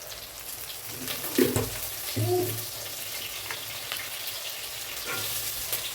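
Onion and curry leaves fry in a pan with a soft, continuous sizzle, broken by a couple of brief clinks or stirring knocks early on; no voices.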